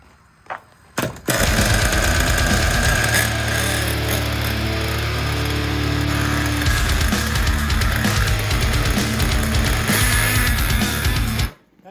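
A Ford Mustang with a newly swapped engine cranks briefly, then fires and runs loudly and close by with a steady, busy mechanical drone until it cuts off near the end.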